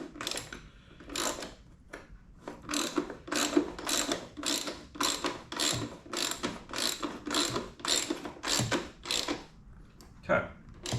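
A ratchet clicks in fast repeated bursts while tightening a bolt on an aftermarket motorcycle rear fender on an FL350, loud and close, with short pauses between strokes and a voice speaking at times.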